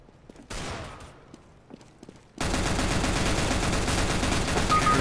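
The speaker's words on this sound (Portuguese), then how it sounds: "Tech9 dele disparou, foi bem da rápido" A Tec-9 pistol fires rapidly in the video game CS:GO: after a few quiet seconds with scattered faint shots, a loud, dense, continuous burst of gunfire takes over and runs to the end.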